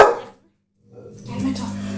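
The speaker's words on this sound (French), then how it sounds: "Un chien aboyé" A pet dog barks once, a short close-up yelp indoors, followed by a moment of silence and then low household noise.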